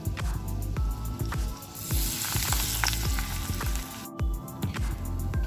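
Spinach fritters fry in a pan of oil over medium-low flame, giving a steady, close, continuous sizzle with crackling pops and a few soft clicks throughout, no voices.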